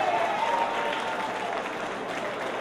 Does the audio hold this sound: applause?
yes